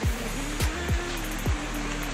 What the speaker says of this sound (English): We're at this beautiful little babbling brook.